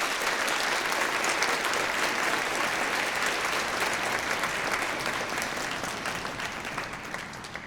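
A concert hall audience applauds a high school honor band at a university, dense, sustained clapping at full volume that holds steady, then begins to thin slightly near the end.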